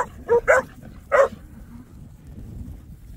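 A dog in a sheep pen barks three times in quick succession, sharp and fairly close, then falls quiet against low background noise.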